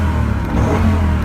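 An early-generation Dodge Viper sports car, rated around 500 horsepower, revs its engine up close in a short, loud, throaty burst with no talk over it.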